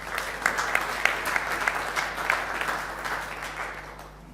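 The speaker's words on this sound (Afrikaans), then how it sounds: "Kom ons gee vir hulle 'n lekker hande klap." A church congregation applauds the band after a service song, a dense sustained clapping from many hands in a large room that slowly fades toward the end.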